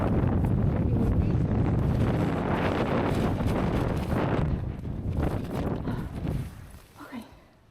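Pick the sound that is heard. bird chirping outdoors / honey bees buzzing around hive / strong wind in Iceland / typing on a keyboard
strong wind in Iceland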